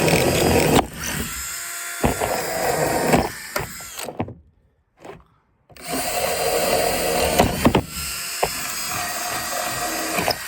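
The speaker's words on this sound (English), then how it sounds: "I just drill a bunch of holes in it" A power drill whirs in sustained loud bursts, drilling holes in a bucket, stopping briefly for a quiet pause midway before drilling resumes, close up.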